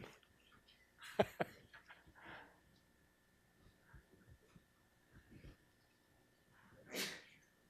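A single sharp sneeze bursts out near the start, followed by quieter shuffling and a second breathy burst later in a quiet room.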